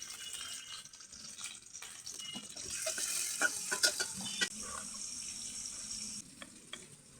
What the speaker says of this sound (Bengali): দিয়ে দেবো পেঁয়াজ আর কাঁচামরিচ কুচি